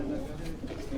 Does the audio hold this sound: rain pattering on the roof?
no